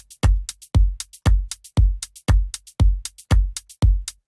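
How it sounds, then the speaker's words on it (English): Shaker samples in an organic house groove: crisp, airy high shakes fall between steady, deep kick thumps about twice a second, close and even in tempo. "I like to start off with some shakers"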